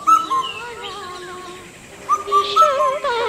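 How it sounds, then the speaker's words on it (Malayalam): Indian cuckoo (Cuculus micropterus) calling outdoors, with repeated clear whistled phrases, then a pause and a renewed burst, and other faint bird sounds in the background. "ശാസ്ത്രീയമായി ഈ പക്ഷിയെ വിളിക്കുന്നത് ഇന്ത്യൻ കുക്കു എന്നാണ്."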